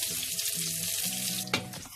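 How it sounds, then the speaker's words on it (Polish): Pork chops frying in a pan with onion, mushrooms, peppers and leek nearby, giving a steady close hiss and sizzle throughout, with a brief sharper spatter near the end. "Nasze schaby ładnie się smażą."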